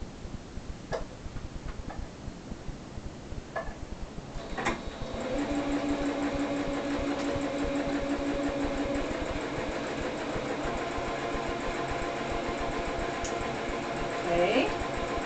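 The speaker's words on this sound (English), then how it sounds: "I'm just doing a loose stitch all the way across." A domestic sewing machine runs a steady, continuous hum of rapid needle strokes while loosely gathering a stitch across scrap T-shirt fabric, starting after a few seconds of quieter handling clicks and carrying on near and even to the end.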